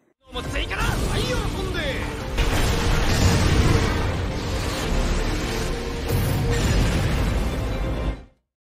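A loud blast bursts out and rolls into sustained booming and crackling debris, with further surges of rumble before it cuts off abruptly.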